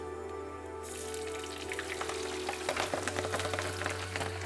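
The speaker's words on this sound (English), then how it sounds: "I'll bring the oil up to just before the smoking point, so a little bit north of 200 degrees, maybe 210 degrees or so, and then in with the hard aromatics." Hard aromatics dropped into oil heated past 200 degrees for red chilli oil, a loud, steady sizzle and crackle at close range that swells right after they go in.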